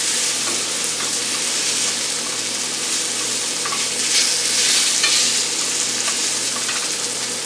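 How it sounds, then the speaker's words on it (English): Mushrooms, onions and seasonings sizzle steadily in a pan for a vegetarian cheesesteak filling, a constant close frying hiss with light scraping from stirring and no voices. "Let that simmer for a little while, not too long, and then we'll mix it all together."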